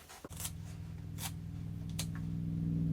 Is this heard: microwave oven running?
no